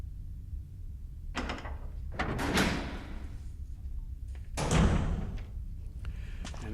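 A door opens in Resident Evil HD Remaster, with heavy swishing creaks and thuds in a few separate bursts over a low, quiet game background.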